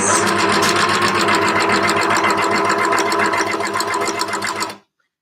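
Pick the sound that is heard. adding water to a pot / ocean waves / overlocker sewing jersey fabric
overlocker sewing jersey fabric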